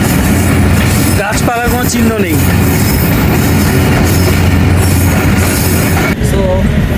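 A Pakistani express train running through Balochistan gives a steady, loud rumble from inside the carriage throughout, with a voice speaking briefly over the noise.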